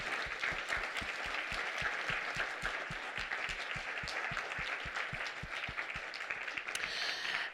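Steady, dense applause from a symposium audience honoring the organizing team at the SAEA 2018 conference, moderately distant and sustained throughout with no speech over it.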